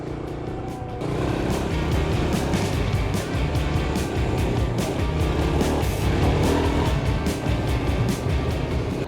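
A motorbike rides along a sandy track, its engine droning loud and steady with constant rumbling wind and road noise throughout.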